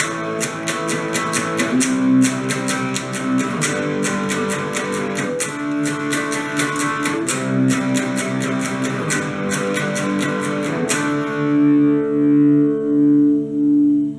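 A distorted electric guitar plays the chorus riff of a song, fast strummed chords with effects, ending on sustained ringing notes, loud and without any voices.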